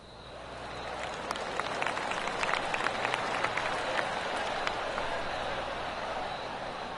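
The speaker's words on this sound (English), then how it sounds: "Oh, I can hear the golf claps around the course." Golf spectators clap around the course during a PGA tournament: a distant, scattered patter of applause rising and fading under a steady broad outdoor hiss.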